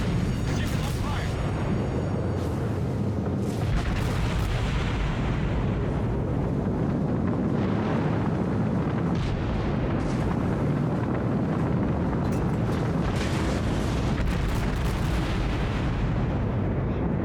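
Heavy gunfire and booming shots in a naval combat video game, with dense repeated blasts and rumbling impacts over a constant roar, while a player talks over the action.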